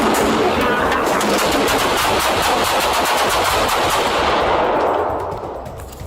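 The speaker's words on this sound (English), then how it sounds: "Shots fired" Police shootout gunfire rings out in a dense, rapid burst of loud, close shots that pile over one another for several seconds, then fade off at the end.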